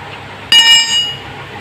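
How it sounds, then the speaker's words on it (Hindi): An 18-inch ring spanner working on a motorcycle front wheel nut gives a single sharp metallic clink that rings briefly and fades, alone against quiet background noise. "18 इंच का रिंग पाना जो है, इससे हम व्हील का नट खोल लेंगे"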